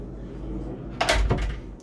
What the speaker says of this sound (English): Toilet, the door opens two ways.